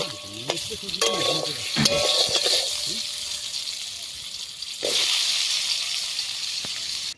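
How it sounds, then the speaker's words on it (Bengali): Potatoes sizzle and crackle in a hot pan, with utensil scrapes and stirring clatter, and a voice speaks over the frying. "আমাদের এখন আলু ভাজা চলছে মাছের ঝোলের জন্য"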